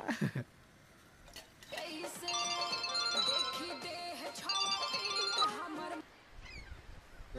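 A phone ringing during a call in a Bhojpuri comedy film: a melodic ringtone plays for several seconds at moderate volume, with brief voice sounds before and after.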